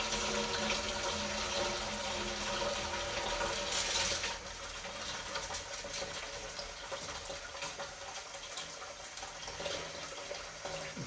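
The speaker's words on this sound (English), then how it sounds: "Rinse with hot water." Hot tap water runs steadily into a sink while jewelry is rinsed under it, a constant hiss of flow with faint splashing changes.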